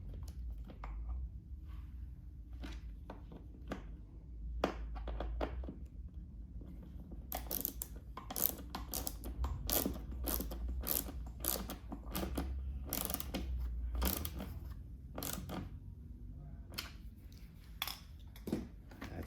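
Fasteners are tightened by hand on a Motorrad Audio subwoofer kit being fitted to a 2018+ BMW K1600B, giving close, sharp ratcheting clicks in quick irregular bursts over a low background hum.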